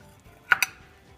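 A steaming piece of bone-in beef from a pot of beef soup is set into a bowl, giving two quick, close clinks in a quiet kitchen.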